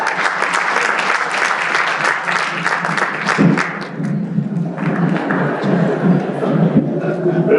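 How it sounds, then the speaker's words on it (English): Audience applause for performers taking the stage at an urban education symposium, a dense wash of clapping with some thumps, continuing steadily for several seconds with a brief dip midway and no clear talk over it. "Round of applause, please, for our amazing performers"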